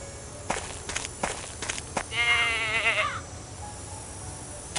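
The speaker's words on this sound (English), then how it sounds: "That goat is a menace." A goat bleats once, a wavering, vibrating cry lasting about a second, preceded by several sharp footstep-like thuds and crunches in thorny thicket, moderately close.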